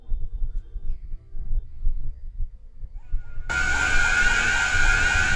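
Screaming from the BEN Drowned video game bursts in abruptly partway through, a loud sustained shrill cry over a low rumbling throb that continues beneath it.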